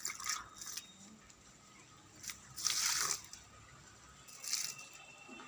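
Water is poured onto garden plants in bursts, with soft splashing and trickling that swells and fades several times against a quiet outdoor background.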